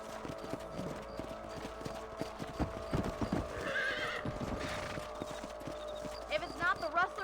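Horses in the Red Dead Redemption video game trot along with rhythmic clip-clopping hooves throughout. A horse whinnies partway through, and faint voices murmur in the background.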